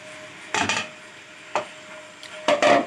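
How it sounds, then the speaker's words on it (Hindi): Macaroni tipped into a pot and stirred quickly for a vegetable macaroni dinner, giving three short bursts of clattering and scraping against the pot under a faint steady hum. "अब इसके अंदर मैक्रोनी डाल देंगे, झटपट मिक्स करेंगे और फटाफट से तैयार हो जाएंगी"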